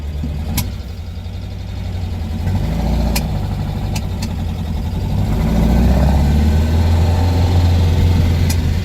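A car's engine runs steadily from inside the cabin on a short test drive, a low rumbling drone that slowly builds in loudness, with a few faint clicks on top.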